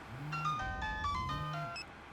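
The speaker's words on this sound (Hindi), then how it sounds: "देखो, उसका फोन बज रहा है।" A mobile phone plays a melodic electronic ringtone inside a moving car, two bright phrases repeating over a low engine rumble, fairly close and clear.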